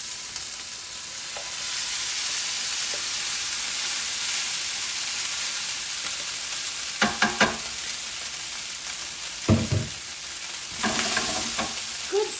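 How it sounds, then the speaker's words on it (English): Rice stir-frying in oil in a pan, with a steady hiss of sizzling throughout and occasional louder bursts of scraping and stirring toward the end, close and unaccompanied by talk. "sizzle noise."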